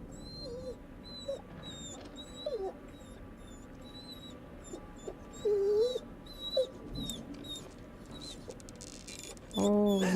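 A dog in the horror video game The Devil In Me whimpers and whines in short, thin cries scattered across the clip, faint and mid-distance, with people talking intermittently over it.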